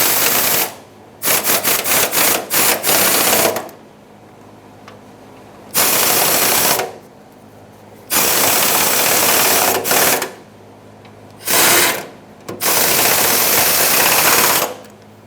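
Fuel tank shield bolts on a 1995-2004 Toyota Tacoma run in with a power impact tool, loud close bursts of rapid rattling hammering separated by short pauses.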